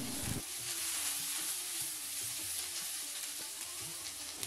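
Boiled potatoes, peppers and red onion fry in ghee over medium-high heat, giving a steady, close hissing sizzle with a brief clatter of stirring at the start.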